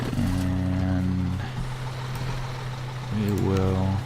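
Truck reversing beeps in Construction Simulator 2015, a repeating electronic tone over a steady diesel engine drone, sounding at the start, pausing mid-clip, then returning near the end.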